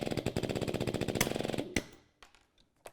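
A Wielander & Schill X-Press riveting tool hammers a rivet home with a fast, loud, steady pulsing burst lasting about a second and a half, then a few sharp clicks and snaps as the setting finishes.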